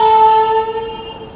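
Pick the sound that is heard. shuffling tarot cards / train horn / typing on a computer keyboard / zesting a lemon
train horn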